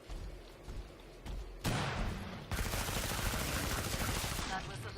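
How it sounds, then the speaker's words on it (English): Rapid bursts of SWAT submachine gunfire from Killing Floor 2 rattle loudly and continuously, starting after a short pause and then running almost without a break to the end. "Stun and riddle with bullets"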